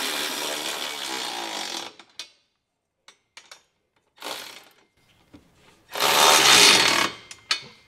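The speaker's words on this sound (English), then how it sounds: "I'm just gonna snug them up using an 11/16 socket here." Carriage bolts on a trailer hitch receiver being snugged up with an 11/16 socket: three separated bursts of close, rapid mechanical ratcheting with small clicks and knocks between them and no talk.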